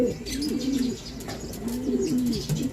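Racing pigeons coo in a steady, throaty rolling rhythm close by, with repeated low bubbling calls over a faint background of light chirps and ambient noise.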